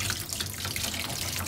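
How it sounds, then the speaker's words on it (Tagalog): Steady running water from a tap pours over live shrimp being washed in a sink, a continuous close-up splashing rush with no pauses. "Hugasan natin maigi."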